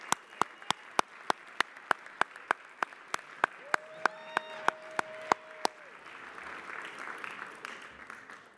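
A public advocate, Letitia James, gets a round of applause at a New York City Council gathering. Evenly spaced sharp claps and a steady wash of applause run throughout, with a brief tone in the middle and crowd noise swelling near the end.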